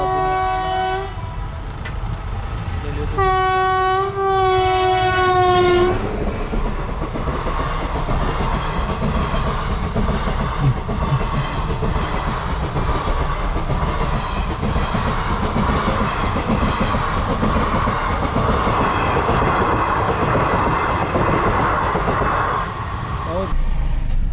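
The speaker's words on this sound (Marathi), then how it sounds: "रेल्वे ट्रॅक आहे आणि हा मार्गे रेल्वे गेली." A train horn blasts a few times at a closed railway crossing near Songadh, then a loud, steady rumble and clatter of rail cars passing close by for a long stretch.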